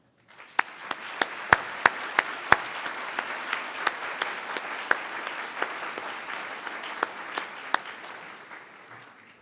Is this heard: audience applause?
yes